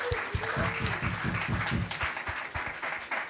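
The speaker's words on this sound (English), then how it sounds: "Let's give them a round of applause." Steady audience applause at the Spirit1 show, dense rhythmic clapping from a crowd sustained throughout at a moderate level with little else.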